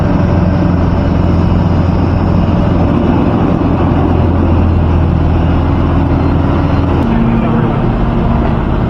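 A car engine drones loud and steady as the car climbs the winding Sathyamangalam ghat road through forest, held in low gear at about 2000 rpm, with a small shift in pitch near the end.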